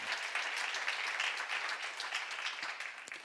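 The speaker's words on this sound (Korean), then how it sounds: "박수 한번 주세요." A church congregation applauds during a sermon, a steady crowd of clapping hands sustained evenly from start to finish at moderate loudness with no voices over it.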